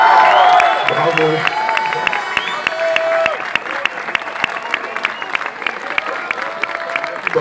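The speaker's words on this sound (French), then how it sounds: "Bravo, on applaudit bien fort." Crowd at a Gilets jaunes gathering clapping and cheering loudly, with whoops and shouts rising over steady applause, close and continuous throughout.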